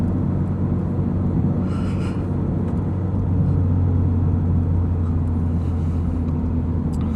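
Subaru BRZ engine droning steadily from inside the cabin while driving, a continuous low rumble with the revs hanging rather than dropping, no speech over it.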